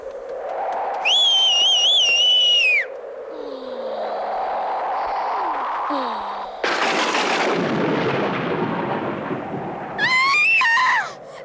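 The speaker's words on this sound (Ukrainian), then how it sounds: "Починається гроза." A loud, crashing thunderclap bursts out and rolls into a long rumble, surrounded by high whistling tones and whooshing noises before and after.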